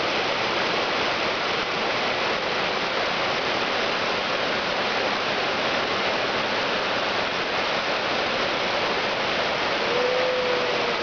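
Rushing river water at Slunj, Croatia, a steady, loud, broadband roar of flowing water like a small waterfall, continuous and unbroken throughout with no voices.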